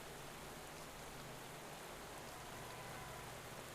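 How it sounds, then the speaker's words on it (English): Steady, soft hiss of rain falling in the cycling game Pro Cycling Manager 2021, a uniform low wash with no distinct drops. "It's raining."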